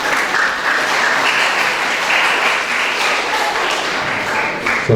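A hall audience at a memorial mawlid gathering applauds to welcome a guest, with loud, sustained and fairly even clapping that lasts throughout.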